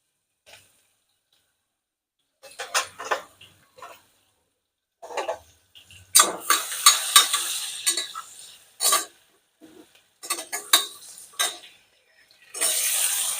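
Cumin seeds, asafoetida and chopped onion hit hot oil in a pan, giving bursts of crackling sizzle between stirring and clinks of a spoon against the vessel, intermittent and close by.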